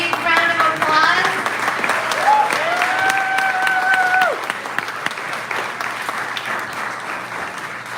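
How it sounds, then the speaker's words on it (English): Audience applause at a political group meeting of the Branch County Revolutionaries, steady and fairly loud from a room of people, with some talking and cheering mixed in over it. "Let's hear a big round of applause."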